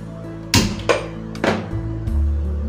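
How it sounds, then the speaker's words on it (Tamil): A stove is switched on in a home kitchen before gram flour is dry-roasted for Mysore pak: a few sharp, close clicks and knocks spaced about half a second apart over a low steady hum. "இப்போ ஸ்டவ் ஆன் பண்ணிக்கிறேன்."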